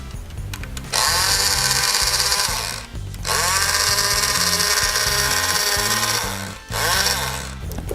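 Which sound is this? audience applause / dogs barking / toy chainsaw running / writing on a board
toy chainsaw running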